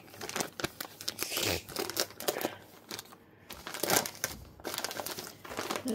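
A New Year gift package from family friends is unwrapped, its paper crinkling, rustling and tearing in close, busy bursts with brief pauses, and no one speaks.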